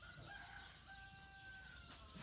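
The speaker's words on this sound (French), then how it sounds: "C'est le coq qui n'a plus sommeil." A rooster crows in a long, thin call that sounds faint and distant, set over steady background noise.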